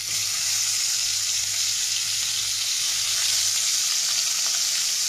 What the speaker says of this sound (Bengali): কড়াইতে আরেকটু তেল দিয়ে বাদবাকি মাছগুলো ভেজে নেবো খুব ভালো করে